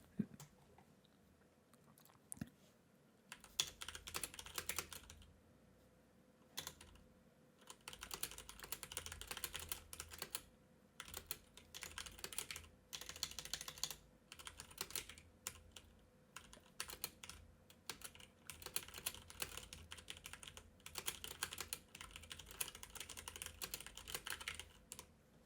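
Rapid typing on a worn computer keyboard during a Dark and Darker gaming session, a dense, close stream of clacking keystrokes in bursts with brief pauses, no voices.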